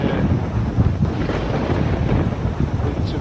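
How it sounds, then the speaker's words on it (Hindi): A storm rumbles with thunder and gusting wind, a continuous, loud, low roar with no break and no voices. "तूफान आंधी और बिजली कड़क रही है।"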